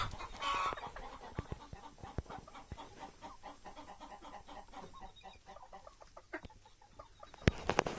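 Soft clucking and peeping from chicks, including a sick one, close and fairly quiet, with scattered taps and rustles and a sharp knock near the end.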